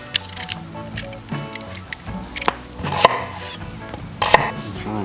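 A kitchen knife dicing shallots on a cutting board, with irregular sharp taps and chops scattered across the moment, a few louder strikes standing out, close and fairly quiet.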